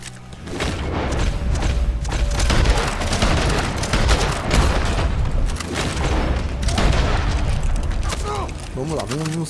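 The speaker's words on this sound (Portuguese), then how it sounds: "Agora vai começar os tiros." Sustained gunfire and explosive booms from a video game shootout, dense and loud throughout, with bursts of shots layered over a rumbling low-end backdrop and a brief melodic tone near the end.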